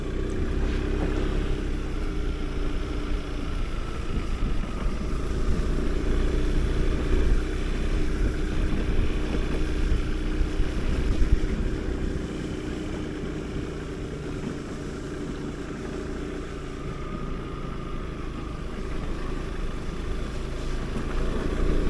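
An adventure motorcycle crosses a canal bridge, its engine a steady, rough drone that swells slightly midway and stays close throughout with no speech.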